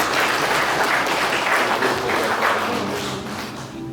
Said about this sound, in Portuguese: Uma salva de palmas, senhor igreja.